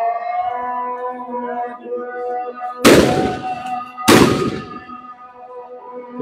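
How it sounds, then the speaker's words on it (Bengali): Two loud, sharp blasts of police sound grenades and tear gas launchers a second apart during a street clash between police and students in Sylhet, heard over a wailing evening call to prayer. "পুলিশ সাউন্ড গ্রেনেড, কাঁদানো গ্যাস এবং নিক্ষেপ করছে"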